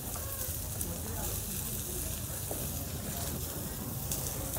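Onion frying in a pan makes a continuous, fairly quiet sizzle, with soft crackles and occasional faint clicks throughout.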